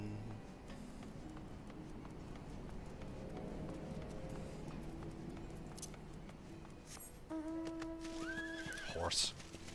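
A horse in Final Fantasy XIV gives one loud, close whinny near the end after a stretch of quiet clip-clopping hooves and game ambience, with no talk.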